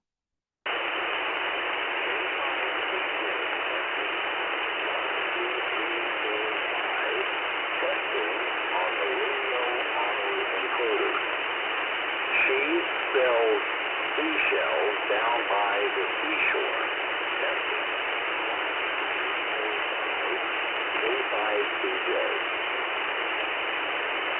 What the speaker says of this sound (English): the first audio sample that I'm going to play is the single sideband